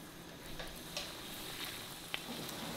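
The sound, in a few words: spaghetti rolls frying in hot oil over medium flame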